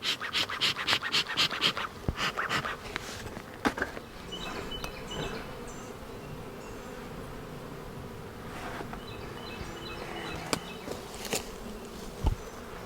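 Honeybees buzzing around an open hive colony during a split ahead of a nectar flow, a faint steady hum with scattered scratches and knocks of hive handling up close.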